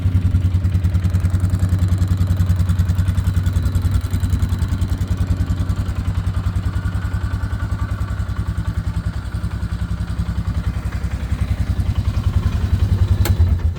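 A small ATV engine, from a collection including a 2007 Suzuki Eiger, a 1986 ATC250R and two 1979 ATC110s, idles loud and close with a steady chugging throb and a slight rev near the end.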